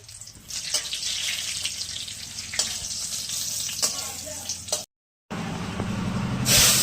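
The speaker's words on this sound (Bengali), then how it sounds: "একটু জিরে আর একটা শুকনো লঙ্কা দিলাম।" Cumin seeds and a dried red chilli sizzling in a little hot oil, a bright continuous crackle close by that briefly cuts out, then returns and swells louder near the end.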